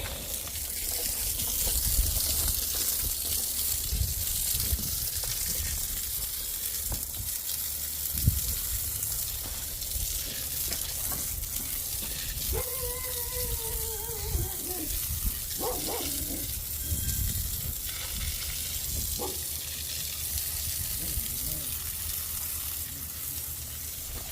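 Water sprayed onto the FortisHD track of a CRT23 mini skid steer during cleaning, a steady loud hiss and gush running throughout with a few brief squeaks and thumps.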